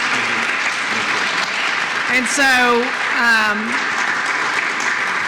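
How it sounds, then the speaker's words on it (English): An audience applauds steadily throughout, a broad wash of clapping, while a voice speaks briefly over it. "yes, please give him a round of applause."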